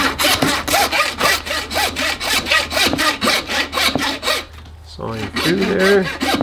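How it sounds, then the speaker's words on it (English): Steady back-and-forth strokes of a hand saw cutting through a bear's leg bone and tissue, rhythmic and close, followed by a brief pause and some handling noise. "sawing through there"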